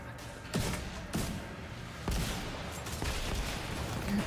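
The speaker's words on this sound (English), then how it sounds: "I could have sworn that gun shot faster" Gunfire from a weapon in the video game The Division 2, several loud separate shots spaced about a second apart over a low game background, with no talk.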